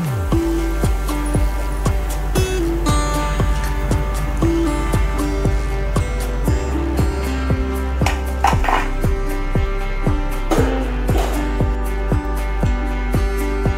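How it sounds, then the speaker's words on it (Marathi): Golden fried round street-style bhaji fritters are lifted out of a pan of hot oil, with repeated sharp metal clinks and scrapes of a spoon against the pan in a steady rhythm, alone and close. "ते आता आपण काढून घ्यायची आहे।"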